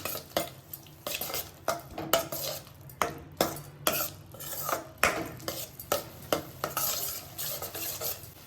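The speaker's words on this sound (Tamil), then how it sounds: "எல்லாத்தையும் ஒன்றா மிக்ஸ் பண்ணி விட்டுட்டேன்." Spoon stirring a garam masala and pepper mixture for Indian-style pasta in a pan: steady, rhythmic metallic scrapes and taps against the pan, repeated every half second or so over a soft sizzle.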